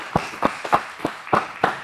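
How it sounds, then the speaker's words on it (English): A handful of separate claps, about six, come at uneven intervals from a small audience applauding a guest. The sound is thin and sparse rather than a full ovation. "Let's give him a round of applause."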